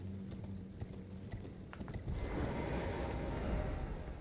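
Horse hooves clip-clop in the game Elden Ring, a quick, steady run of hoofbeats over a constant background that grows louder and denser halfway through, with no talking.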